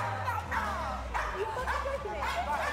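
A dog barks and whimpers in a reality show, its short yips and whines repeating steadily over a low background hum.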